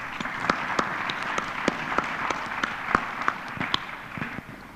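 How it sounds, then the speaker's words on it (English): An audience at a ministerial conference applauds a panel, with steady clapping from many hands and sharp individual claps standing out close by. "Let's give them a round of applause."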